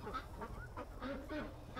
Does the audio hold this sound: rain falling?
no